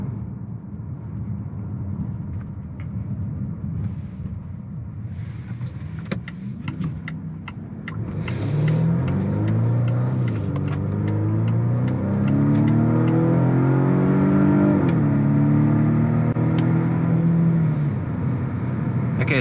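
A 2025 Volvo V60 Cross Country accelerates at full throttle from inside the cabin, a low engine drone rising and swelling into a loud, steady climbing roar through the gears with faint road rumble beneath.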